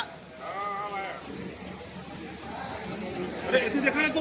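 A goat bleats in a few wavering calls amid crowd chatter and background noise, with other voices nearby.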